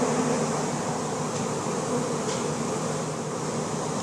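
A honey bee swarm buzzes steadily around a brick column outdoors, a dense continuous hum of many insects at moderate level with no voices.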